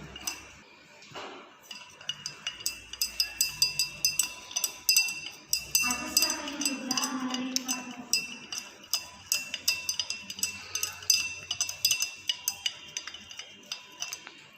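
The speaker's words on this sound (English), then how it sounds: "By means of mild heat and continuous stirring, we are going to dissolve this sugar in this juice." Sugar stirred into juice over mild heat, a utensil clinking steadily against a glass or metal vessel in quick repeated ticks, close and fairly quiet, with a brief murmur of voice partway through.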